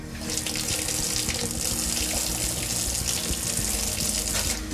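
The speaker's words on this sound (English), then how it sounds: "you'll want to go inside and run all of your water fixtures until pink comes out of them" A kitchen faucet in a Riverstone luxury fifth wheel RV runs water into the sink in a steady, close splashing stream without any talking.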